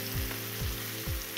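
Scallops sear in a hot pan, a soft, steady sizzle broken by three evenly spaced scraping thumps as melted butter is spooned back over them, with a small clink at the end.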